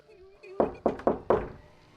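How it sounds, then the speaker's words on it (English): Knocking inside a bedroom, a horror story effect: a short series of sharp, hollow knocks, close and distinct, standing out clearly against a quiet background with a faint tone at the start. "Then he heard 3 knocks."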